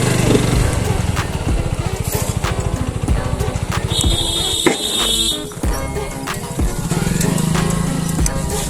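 A motorcycle engine runs loud and close with a rough, pulsing drone and shifting revs, as a rider performs stunts standing and lying on the bike; a voice cuts in briefly.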